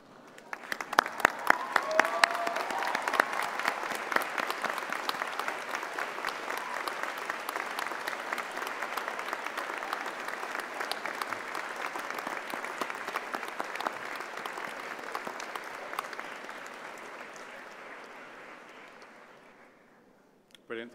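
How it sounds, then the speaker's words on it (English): An audience at a university graduation ceremony applauds in a dense, sustained wave of clapping that holds steady for about twenty seconds before fading out, with scattered whoops near the start. "join me in showing your thanks with a huge round of applause"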